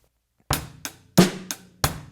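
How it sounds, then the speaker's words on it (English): A drum set plays a basic rock beat with eighth-note hi-hat, heard as a short, steady pattern of five loud strikes with ringing cymbal wash, close and alone. "the next one that we're learning is the basic rock beat"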